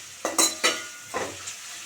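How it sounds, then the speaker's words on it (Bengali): Onions fry in a pan and get stirred. A faint sizzle sits under four or five quick scraping strokes of a utensil. "তো ভালো করে এগুলোকে ফ্রাই করে নিচ্ছি।"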